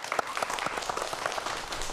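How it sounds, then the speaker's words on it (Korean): Brief burst of steady applause from a lecture audience welcoming the final speaker, a professor talking about the Dongui Bogam, moderately distant and soft. "박수 부탁드릴게요."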